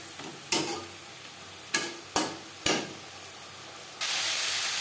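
Onion and tomato frying with salt, turmeric and garlic for a pangas fish curry, a steady sizzle broken by four sharp spoon scrapes against the pan, then a louder, brighter hiss swelling near the end.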